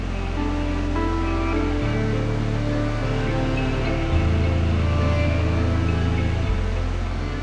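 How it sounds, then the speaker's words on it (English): Nachi Falls, one of the tallest waterfalls in Japan, pours as a continuous dense roar of rushing water, loud and unbroken throughout with a steady low drone underneath. "It's one of the tallest waterfalls in Japan"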